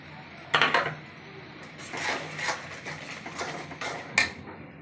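A spoon scrapes and knocks against a pan while a fish curry with salt, chili, turmeric and ginger-garlic paste is stirred, giving a few close metallic clinks over a low background.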